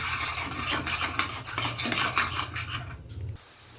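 Spoon scraping and stirring egg bhurji with leafy greens in a metal pan, a steady run of rhythmic scrapes and clinks close up, stopping abruptly near the end.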